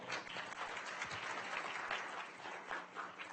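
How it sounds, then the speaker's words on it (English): Audience applause at a Space Coast realtors' association event, a fairly quiet, steady patter of many hands clapping throughout, with no talk over it. "Big round of applause for these people."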